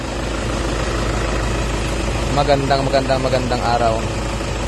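A Toyota Wigo car engine idles steadily with a low, even rumble throughout, while someone speaks over it partway through.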